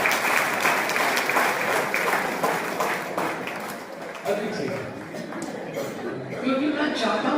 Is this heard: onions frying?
no